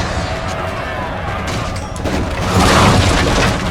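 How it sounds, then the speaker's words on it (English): Empire Total War artillery shells striking a fort wall, a rising crash and rumbling boom that swells near the end, set against the din of the battle with voices in the background. "Oh, artillery's in the wall."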